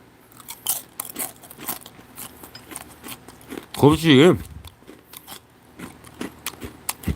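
Crisp crunching bites of Kentucky fried chicken skin reheated in an air fryer, a short loud burst of crackly chewing close to the mic, with a voice speaking briefly around it.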